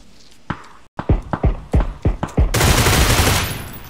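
Gunfire in a first-person shooter game: a rapid string of about eight loud, sharp shots with short gaps, followed by a sustained burst of automatic fire and noise.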